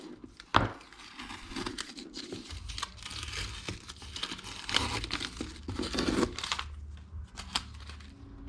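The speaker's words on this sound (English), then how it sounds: "The knife is easily cutting through the paper and the film, but will not leave any marks in the wood." Stencil knife cutting through paper and plastic film laid over wood, with crinkling, scratchy slicing and rustling in uneven bursts, close up and fairly quiet.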